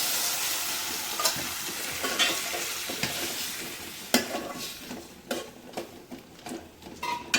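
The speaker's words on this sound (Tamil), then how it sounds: "வெங்காயம் நல்லா வதங்கிடுச்சு இப்போ நம்ம சேர்த்து மட்டனை சேர்த்துருக்கோம்" Mutton is added to small onions sautéing with curry leaves in a pan, giving a steady sizzle with stirring, scraping and clinking of a utensil, close up and without talk.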